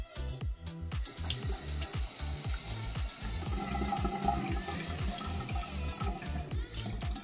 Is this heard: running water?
yes